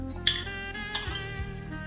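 Biscuit, eggs and milk being mixed in a bowl for caramel custard, giving close, soft clinks and scrapes of a utensil against the bowl with two sharper taps, no voices.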